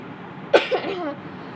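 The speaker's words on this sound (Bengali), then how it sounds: "আমার একটু কাশি হয়ে গেছে" A single close cough from a person with a sore throat, one sharp burst followed by a brief rougher tail, otherwise quiet.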